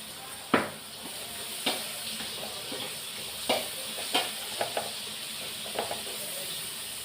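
A steady hiss of bitter gourd frying in a pan, with occasional sharp pops and clinks of a utensil stirring.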